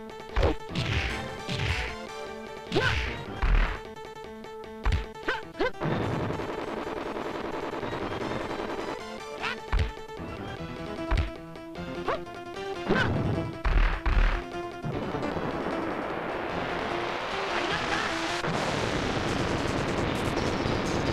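Punches, kicks and impact crashes from the 1993 Super Famicom fighting game Dragon Ball Z Super Butoden 3, sharp hits landing in irregular bursts over game music, ending in a long, loud sustained blast of noise.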